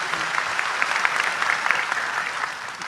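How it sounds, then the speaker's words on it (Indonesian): An audience at a religious talk claps steadily for a short, moderately loud stretch, with individual claps standing out from the dense clatter. "Tepuk tangan untuk beliau, enggak apa-apa."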